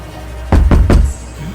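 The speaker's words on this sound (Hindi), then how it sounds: "वह दरवाजे को खोलने के लिए दरवाजे को जोर जोर से ठोकने लगा।" Three loud, heavy knocks pound on a door that is locked from the inside, close up and evenly spaced, with no voices over them.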